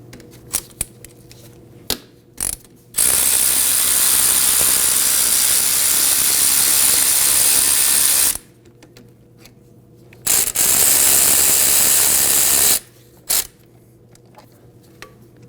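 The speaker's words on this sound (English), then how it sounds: "To remove our caliper, we're going to go ahead and remove the caliper bolts with a 12mm." Ratchet loosening 12mm brake caliper bolts on a 1993-2001 Subaru Impreza, two long continuous clicking runs close up, with a few sharp taps and clicks before, between and after.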